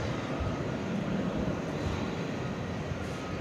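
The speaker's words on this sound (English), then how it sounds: "As we look out for American Flight 1173 coming in from Phoenix" An American Airlines Airbus A321 arriving from Phoenix on its landing approach at DFW airport at night, a steady broad engine roar that holds evenly throughout with no break.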